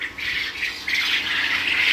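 A flock of Japanese quail kept on litter calls at midday, a dense overlapping chorus of high squawking chirps that rises and falls continuously from fairly close by.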